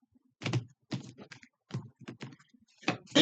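A shuffled deck of tarot cards being cut and handled up close, with soft dry card slaps and shuffles in several short separated bursts against a quiet background.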